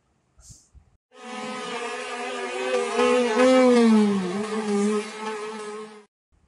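A honeybee buzzes in a close, sustained drone that swells, wavers in pitch and fades, standing alone after a brief soft sound.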